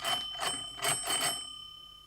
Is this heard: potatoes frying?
no